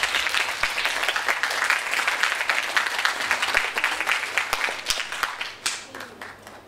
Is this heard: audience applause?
yes